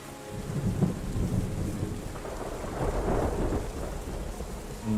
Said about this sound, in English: Oh, the rain's filling in the tiles that we missed.